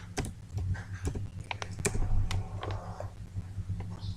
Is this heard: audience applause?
no